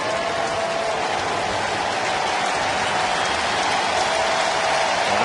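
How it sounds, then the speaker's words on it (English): A baseball stadium crowd cheering and applauding for a relief pitcher, a dense, steady wash of clapping and roar that holds at a constant loud level throughout, with no voices standing out. "Now the crowd getting behind Arthur Rhodes."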